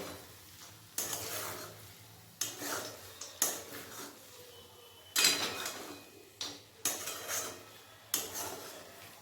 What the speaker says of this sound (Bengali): এরপর এর মধ্যে আমি দিয়ে দেবো ভেজে রাখা কাজু আর বাদাম দিয়ে দেবো ভালো করে মিশিয়ে নেব